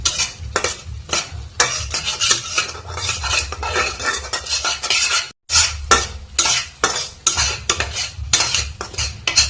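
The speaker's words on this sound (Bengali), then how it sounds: "গ্যাসে মিডিয়াম আঁচে দিয়ে মশলাটা বেজে নিতে হবে" Spices being stirred and fried on medium gas heat in a pan for a Bengali fish curry: steady rhythmic scraping and clinking of a spatula against metal over a low sizzle, close and continuous, with one brief pause.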